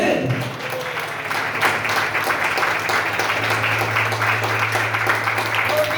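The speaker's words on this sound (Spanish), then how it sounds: "Aplausos y le va a aplaudir, amén" A church congregation applauds steadily and fairly close. A sustained low organ-like tone enters partway through and a voice talks briefly over it.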